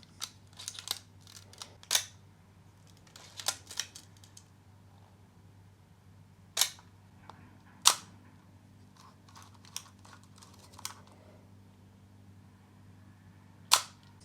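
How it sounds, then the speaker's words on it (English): A Leica M3 film camera's cloth shutter fires several times, each a soft, sharp click separated by pauses, with quieter mechanical clicks in between over a faint hum. "It has a quieter shutter, with it being a cloth shutter."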